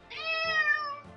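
A cat in Old School RuneScape gives one clear, close meow lasting about a second, alone with no talk.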